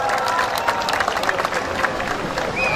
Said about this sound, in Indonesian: Tepuk tangan untuk santri Temanggung.